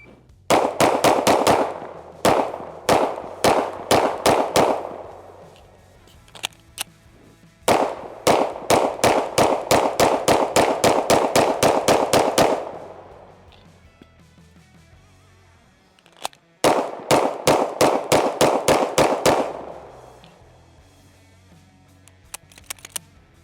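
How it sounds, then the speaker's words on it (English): An Oracle Arms 2311 pistol fires rapid strings of shots downrange on an outdoor range, three bursts of sharp, loud cracks in quick succession separated by brief pauses, with no talking. "So let's throw a few more rounds downrange now."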